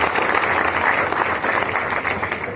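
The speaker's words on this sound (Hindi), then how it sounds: "आप तालियां बजाकर उन सारी कंपनीज का स्वागत करिएगा" Loud, dense applause fills a hall at a mega job fair in Aurangabad as the audience welcomes the participating companies, the clapping steady and sustained throughout.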